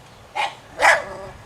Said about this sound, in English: Oh, there's one of the dogs.